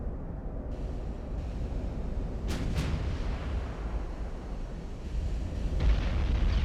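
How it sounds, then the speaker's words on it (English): Heavy naval guns firing in Ultimate Admiral: Dreadnoughts, deep booming blasts rumbling over steady low background noise, with a couple of sharp bursts in the middle and another heavy boom near the end. "Those sound like some pretty beefy guns."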